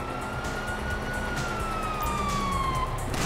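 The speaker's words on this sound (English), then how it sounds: "you hear that? Sirens." A wailing police siren in the video game Grand Theft Auto V rises and falls over a low rumbling background, moderately loud, with no talking.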